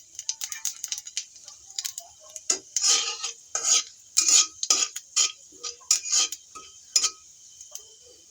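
Panch phoron spices tossed into a pan and stirred, a series of crisp, irregular scraping and crackling clicks from a spoon against metal, close and alone, building in density midway.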